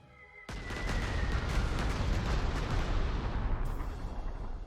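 Strategic bombing run in the World War II strategy game Panzer Corps 2, set in Belgium: a sudden loud roar of explosions and rumbling blasts that starts abruptly and continues in a dense, sustained barrage with no voices.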